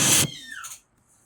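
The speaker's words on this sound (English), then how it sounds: "Maybe I want to add that whoosh sound effect to the moment I wake up" A whoosh sound effect for a wake-up moment opens as a loud, broad rushing burst, then thins into a falling swish and a faint airy tail before trailing off to near silence.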